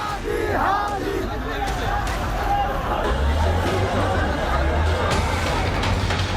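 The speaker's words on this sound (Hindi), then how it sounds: "ये तस्वीरें सड़कों पर कट्टरपंथियों की भीड़ के उग्र मार्च की हैं।" Angry crowd of radicals marching through streets in Bangladesh, a dense roar of many voices with shouts rising above a steady low rumble, continuous and loud throughout.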